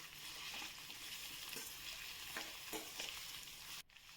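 Chopped vegetables for sambhar frying in hot oil in a kadai, a steady close sizzle with scraping stirs and a brief drop in the hiss near the end.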